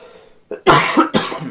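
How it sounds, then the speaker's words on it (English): A sudden loud cough, a short burst followed by a second cough, close by with a brief quiet lead-in. "It was a cough."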